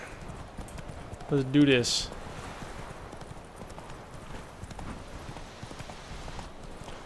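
Horse hooves clip-clop in The Witcher 3 video game, a short burst of steady hoofbeats that rises loud for about a second, then fades under someone talking and a constant game ambience.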